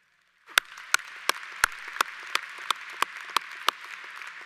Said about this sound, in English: All these milestones deserve that applause